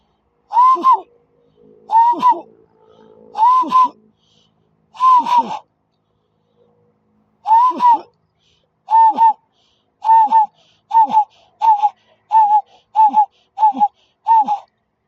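Breathy hand-blown whistled notes imitate a bird call, sounding as short hooting blasts, first spaced out, then repeated in a quicker, steady series.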